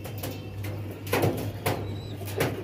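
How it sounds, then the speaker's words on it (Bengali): Pigeons at a pigeon farm in Nabadwip coo in low, soft bursts close by, with a faint background hum and a brief flutter of activity. "এখানে দেখো কত পায়রা রয়েছে"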